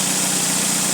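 A car engine with loose spark plugs running steadily, a loud, close continuous hum with a rough, rattling texture and no pauses.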